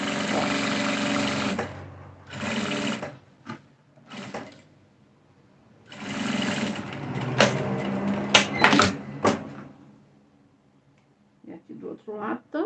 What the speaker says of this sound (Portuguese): Aí aqui eu vou passar uma costurinha de segurança.